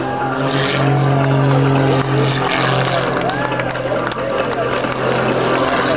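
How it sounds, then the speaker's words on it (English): A propeller aerobatic airplane performing at the 2007 Vectren Dayton Airshow, flown by Skip Stewart: a loud, steady engine drone with rising and falling pitch sweeps as it passes, under continuous announcer talk. "as he slows the airplane down"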